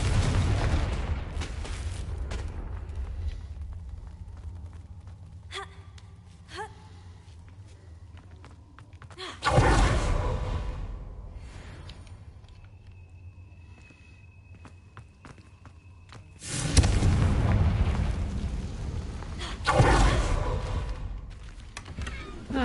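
Hogwarts Legacy combat with the Confringo fire spell: three loud, broadband blasts bursting out at intervals over a busy game backdrop of footsteps and clatter.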